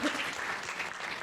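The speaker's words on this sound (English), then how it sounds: "I think that does deserve a round of applause." Conference audience applauding after a morning session on geopolitics, a short burst of steady clapping heard alone, close and even throughout.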